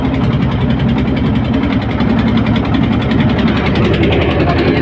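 A trawler boat's engine chugs steadily on the Madhumati river, a continuous loud rhythmic throb with vibration and no clear break throughout.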